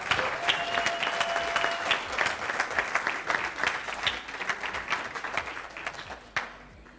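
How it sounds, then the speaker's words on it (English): Audience applause at the AI Song Contest 2023 award show in A Coruña, a dense, lively burst of many people clapping, loud and sustained for several seconds before cutting off abruptly. "Let's give another big round of applause to Kemi."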